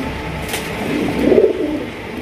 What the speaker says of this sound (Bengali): ডাকের কবুতর দেখেন